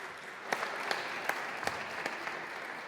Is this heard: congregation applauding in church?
yes